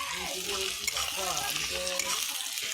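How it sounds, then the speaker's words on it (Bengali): Chopped onion and garlic paste sizzle and fry in hot oil while being stirred, a steady close crackle throughout, for a broiler chicken curry. "ফার্স্টে পেঁয়াজ কুচি দিছি, তারপরে রসুন বাটা দিয়ে তেলের মধ্যে মিশিয়ে নিছি।"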